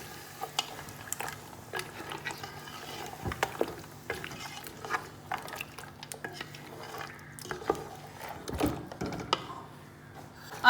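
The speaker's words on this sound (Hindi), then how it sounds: "अब मैं इसको अच्छे तरीके से इसी स्टेज पे मिक्स करूंगी।" Spoon stirring yogurt into mutton korma in a pot over a low flame, giving repeated scraping and clinking strokes in an irregular rhythm, fairly close and moderately quiet with no talking.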